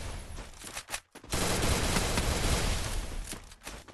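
Rapid bursts of UMP submachine gun fire in the Free Fire video game, a couple of short volleys followed by a long sustained stream of shots, loud and close.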